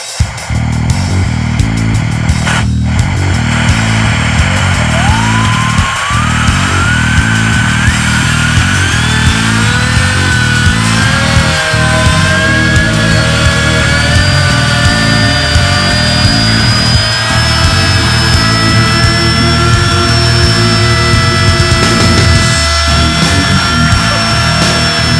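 A compressed-air turbine driven at about 98 PSI roars loudly and steadily, its whine rising in pitch as it spins up to roughly 12,000 RPM and then holding at a high, constant speed.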